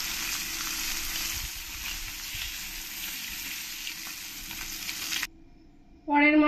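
Rohu fish pieces fry in hot oil with a dense, steady crackling sizzle for about five seconds, then it drops away to near quiet before a loud sharp sound at the end.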